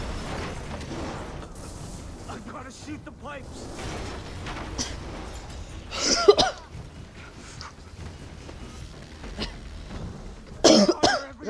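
Two harsh bursts of coughing in a Far Cry 3 playthrough, the first around the middle and the second near the end, amid talk and clattering game sounds.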